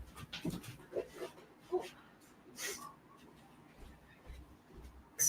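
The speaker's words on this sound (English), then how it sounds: "my dog is about to bark at someone and set the baby off" Dog panting and whimpering indoors during a call, a few soft close breaths and whines in short bursts, with talk around them.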